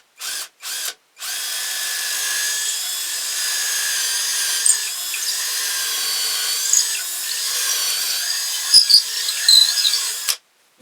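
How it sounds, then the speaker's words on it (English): A power drill with a 1/4-inch bit bores into a wooden ventriloquist dummy's head, a steady high whine held for about nine seconds after two short starts, ending abruptly, with no talking. "I'm going to use a 1/4-inch drill bit. We're going to go down through here, inside the head."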